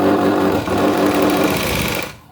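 An electric sewing machine stitches a boat-neck blouse neckline in one fast, loud, rattling run of needle strokes that cuts off abruptly near the end.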